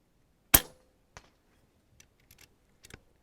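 American Air Arms EVOL airgun fired outdoors at a competition range, one sharp close crack at the start followed by a few faint ticks and clicks of handling.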